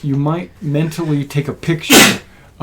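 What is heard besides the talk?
sneeze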